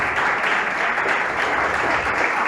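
A church congregation applauds in a continuous, dense wash of clapping that holds steady and fairly loud throughout.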